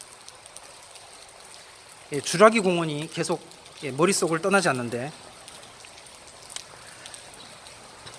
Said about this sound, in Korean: 오늘 참 예, 비가 계속 많이 오는데